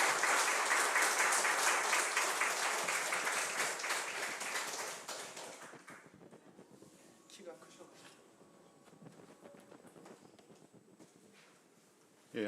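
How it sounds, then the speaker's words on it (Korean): A church congregation at a Wednesday special lecture applauds a guest pastor, dense clapping loud at first, then thinning and fading to scattered claps and quiet room noise. "우리 큰 박수로 맞아주시면 감사하겠습니다"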